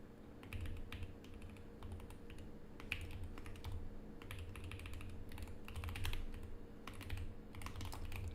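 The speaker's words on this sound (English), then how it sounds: "I mean struggling to type, I guess" Steady typing on a computer keyboard, clustered bursts of key clicks with short pauses, close and clear over a low background hum, no voices.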